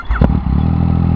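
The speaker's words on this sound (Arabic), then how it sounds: "هذا هو الديماراج" A Yamaha MT-09 motorcycle with a three-cylinder crossplane engine starting up, a starter whir and catch into a loud, close, steady idle rumble.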